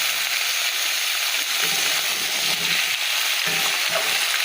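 Eggplant, radish and other vegetables fry in a pan, giving a steady close sizzle with light stirring scrapes throughout, and no voices.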